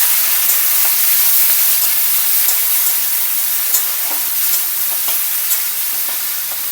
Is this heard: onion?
yes